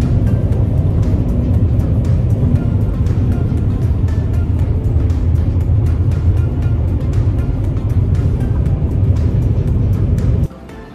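Steady engine and road rumble from inside a car on a long highway drive to Duluth, continuous and fairly loud with low droning hum, cutting off abruptly near the end.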